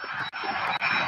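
An airliner taxis at SDF airport, its engines giving a steady, close, continuous whine and rumble in a short burst with no talking.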